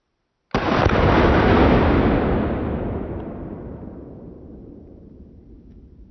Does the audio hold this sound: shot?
yes